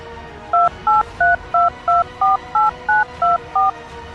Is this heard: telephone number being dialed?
yes